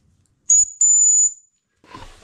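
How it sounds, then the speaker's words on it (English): A small safety whistle clipped to a trail running pack is blown twice, a short shrill blast and then a longer steady one, close and clear, followed by a faint rustle. "There is a whistle on this pack. You probably know it's not the loudest."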